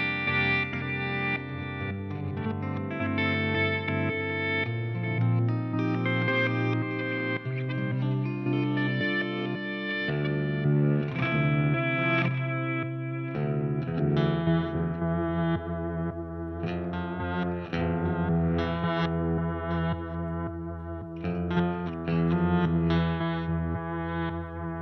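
Electric guitar played through a Walrus Audio Mako D1 delay pedal in its modulation mode, sustained chords and notes with a wavering, chorus-like shimmer and echo trailing throughout, steady and full with no talking.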